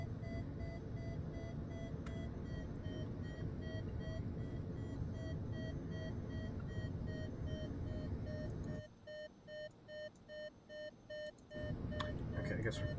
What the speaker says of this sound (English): I'm assuming that's just the Vario beeping.